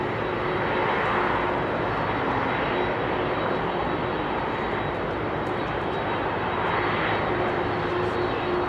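A former KLM Boeing 747 Combi converted to a freighter moves at Heathrow, departing for a new operator in the USA. Its engines give a continuous, even jet roar, moderately distant, with no talk over it.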